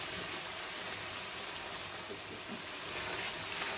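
Steady sizzling of tomato paste frying in a pot while Nigerian party jollof rice cooks, a continuous close hiss with no talking.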